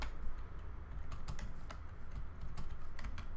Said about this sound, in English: Man, how many mistakes do I do while typing?